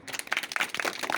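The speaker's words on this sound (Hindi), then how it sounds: "तालियां बजाओ।" Children clapping during a classroom visit, a quick burst of scattered, uneven handclaps close by, fairly soft and lasting only a moment.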